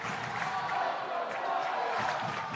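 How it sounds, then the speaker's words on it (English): Basketball arena crowd cheering at the Highmark Center, a steady, loud wash of many voices roaring and whooping together from a distance, with no individual words standing out. "And now the crowd is going here in the Highmark Center."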